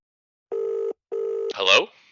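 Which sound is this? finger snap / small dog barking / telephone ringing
telephone ringing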